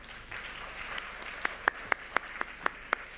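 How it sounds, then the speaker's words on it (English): Applause for a speaker at a presentation begins as scattered murmuring claps, then settles into a few sharp, evenly spaced loud claps close by, roughly four per second. "Please, a big round of applause."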